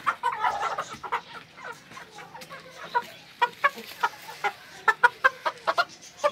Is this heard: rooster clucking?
yes